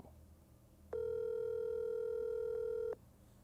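A single steady telephone ring tone sounds for about two seconds while an outgoing call waits to be answered, clear and even against a quiet, faintly noisy room.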